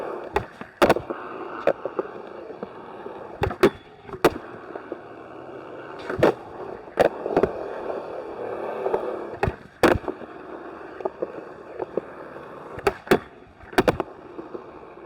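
Extra-wide popsicle skateboard deck with small wheels rolling over smooth ground, a low, steady grinding rumble broken by sharp clacks and thumps from the board at irregular intervals.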